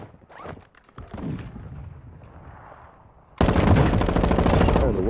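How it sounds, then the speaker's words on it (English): Warzone 2 gameplay with a few scattered shots and movement noises at first, then a loud, sustained burst of rapid automatic gunfire from close by. "Why you shooting me, gang?"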